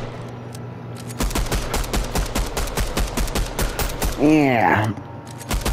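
Rapid bursts of gunfire from the DOOM video game rattle loud and fast, followed by a wailing demonic screech, while a person speaks briefly over the shooting.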